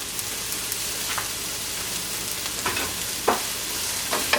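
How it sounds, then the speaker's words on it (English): Onions and green peppers with salt sweat in oil over moderate heat, giving a continuous close-up sizzle with occasional light crackles and pops. "sweating a little bit of onions and green peppers, and I added some salt to it, and it also has oil in it"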